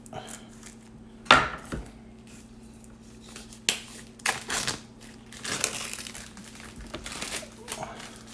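Opening a board game box, with cardboard punchboards being handled: dry crinkling and rustling of cardboard and packaging, with a few sharp snaps and bumps between steadier scraping, up close with no talk.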